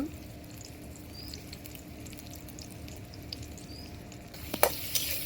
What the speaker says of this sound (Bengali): পেঁয়াজটা একটু বেজে নেব